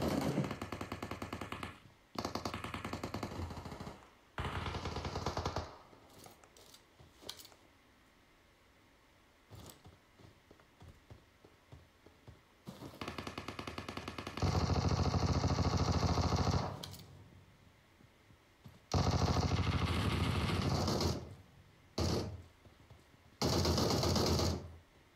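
Bursts of M762 assault rifle fire in PUBG Mobile, loud rapid automatic volleys repeating in clusters with short pauses between, alongside quieter stretches of game noise.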